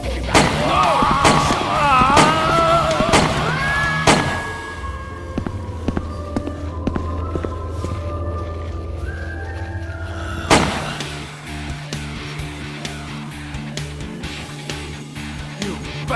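Gunshots ring out in a film scene as several sharp, loud cracks, bunched at first and then scattered, over a rumbling, tonal soundtrack.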